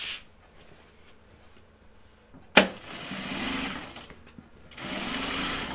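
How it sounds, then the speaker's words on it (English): A sewing machine understitching fabric, with a sharp click and then close, bursts of rapid mechanical whirring that stop and start, with quiet handling sounds between runs. "now I'm going to understitch it"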